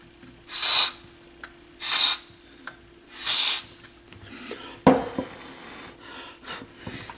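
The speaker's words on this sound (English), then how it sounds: "it looks like I can probably get the contact cleaner back in there that way" Contact cleaner sprays into the switches of a Pioneer SA-7100 integrated amplifier in three short hissing bursts, followed by soft clicks, scrapes and handling noises as the switches are worked.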